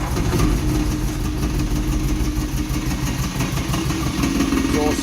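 An old engine idling after a cold start with the choke on one carb, a steady loud rumbling run with the exhaust knocking against the axle, close up.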